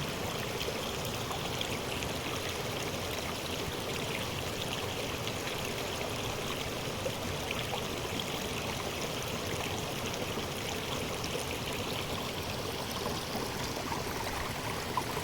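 A steady stream of water rushes and trickles continuously, a broad even wash of flowing sound with no voices.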